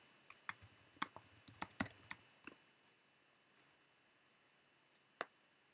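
Fingers type a short burst of numbers on a computer keyboard, a quick run of crisp, close key clicks for about two and a half seconds, then a few scattered single taps with pauses between.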